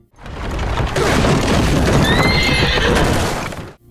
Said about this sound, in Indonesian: karena kuda lari begitu kencang, membuat salah satu rodanya copot